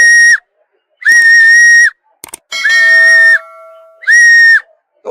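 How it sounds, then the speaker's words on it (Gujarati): A whistle blown with a hand held below its open end, giving four loud, clear high-pitched blasts each about a second long with short gaps, one of them wavering with extra lower tones, close and alone. "અહીંયા હું આ સીટીને નીચે હાથ રાખીને વગાડું છું."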